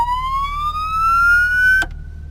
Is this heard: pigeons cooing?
no